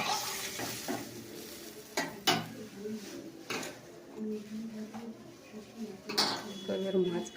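A spoon scrapes and stirs curry sautéing in a pan, with a soft, steady sizzle and occasional clinks against the metal, all fairly quiet under a person talking.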